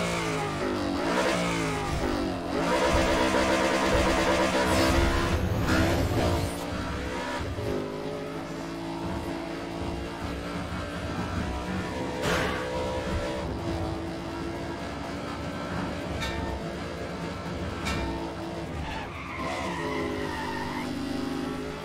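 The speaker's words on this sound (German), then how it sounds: "Der Opel fährt sich wie auf Schienen." An Opel races in Need for Speed World, engine revving loudly and continuously with repeated tire squeals and skids, game music underneath throughout.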